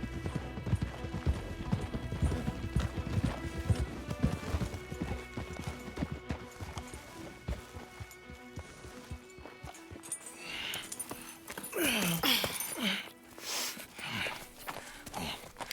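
Horses clip-clop along at a walk in the Red Dead Redemption II video game, with uneven hoofbeats over an outdoor ambience, then a snort or whinny and a rustling flurry near the end.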